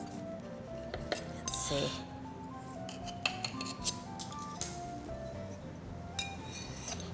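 A warm olive oil cake is sliced and served, with scattered clinks and scrapes of metal utensils against a plate and a brief soft rub, while someone speaks quietly.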